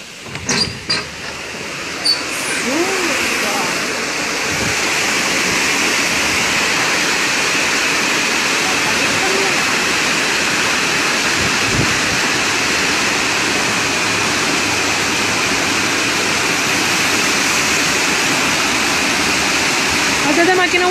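Floodwater rushing down Viale Regina Margherita, a street turned into a torrent, a loud continuous roaring wash filling the scene, with voices heard faintly near the start.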